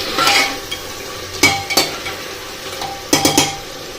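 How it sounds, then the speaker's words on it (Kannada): Crushed pepper, fennel and other spices sizzle as they are stirred in a pan for biryani, with several sharp scraping strokes of a spoon against the metal over a steady frying hiss, close and fairly loud. "ಇವಾಗ ಹಾಕಿರೋ ಐಟಮ್ಸ್ ಎಲ್ಲ ಫ್ರೈ ಆಗಲಿ."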